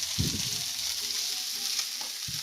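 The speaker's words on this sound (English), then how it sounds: "So in we put our onions. Obviously, I preheated the pan." Onions hit a preheated pan for a hearts-of-palm lasagna and sizzle in a loud, steady, close hiss. A few soft low knocks from the pan or spoon come through, with no talking.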